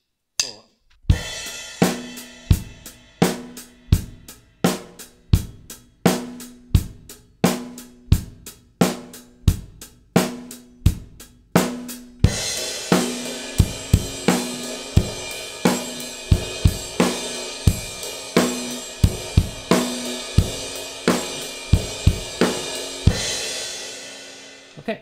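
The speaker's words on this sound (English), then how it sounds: "I'll play four beats of the original Money Beat for a verse." Drum kit playing the basic Money Beat rock groove for a verse, then switching the right hand to the cymbal for a washier chorus; steady, evenly spaced kick-and-snare hits, close and loud, with no talking.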